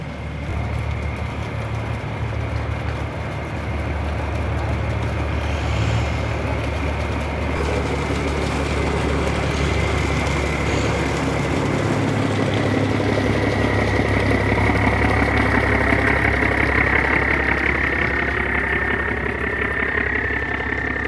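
Boat and barge engines passing through a sluice gate on a Vietnamese waterway, a loud continuous droning rumble that holds steady and swells slightly as the vessels move through, with no voices.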